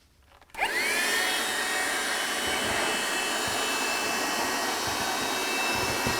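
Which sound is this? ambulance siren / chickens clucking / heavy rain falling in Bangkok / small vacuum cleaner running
small vacuum cleaner running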